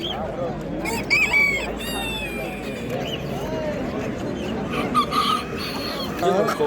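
Roosters at a poultry market, several crowing and clucking calls rising over a busy crowd, with people talking nearby throughout.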